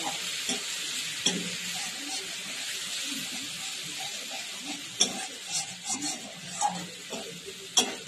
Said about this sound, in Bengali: এবার মশলাটাকে আমি ভালো করে ভেজে নিচ্ছি